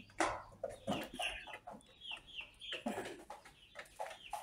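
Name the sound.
chickens clucking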